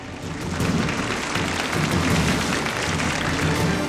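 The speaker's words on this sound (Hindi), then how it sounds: "तो दीजिए दो हाथ और जोरदार तालियां बजाइए।" Loud, steady applause from a large audience after the final couple's performance at a dance competition, a dense continuous clatter of clapping that holds its level throughout with no talk over it.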